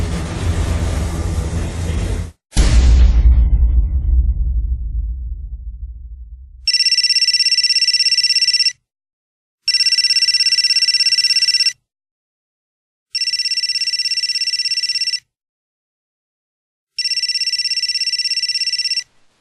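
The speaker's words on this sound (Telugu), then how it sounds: "ఈ టైంలో ఎవరు ఫోన్ చేశారు?" An electronic phone ringtone rings four times in steady, evenly spaced bursts, following a loud rushing noise that fades away.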